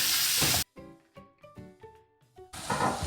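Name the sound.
frying chicken with banana stem in a pan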